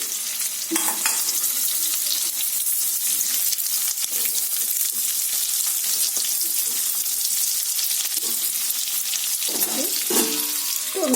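Capsicum, onion and torn green chillies fry in hot oil in a pan for chilli paneer, a loud steady hiss and crackle throughout, with a few brief clinks and stirring scrapes.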